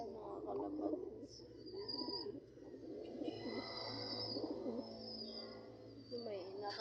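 Pigeons in a loft with young chicks coo in soft, repeated rounded phrases, near and fairly quiet, while a faint voice murmurs in the background.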